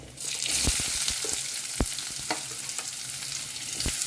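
Onions frying in oil with lightly sautéed garlic in a pan, a bright, steady hiss of sizzling with occasional sharp spatula taps and scrapes, close up and without talk.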